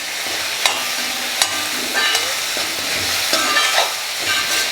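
Tomatoes sauté for mutton bone curry with a steady loud sizzle, and a spoon strikes and scrapes the pan every second or so; no voices.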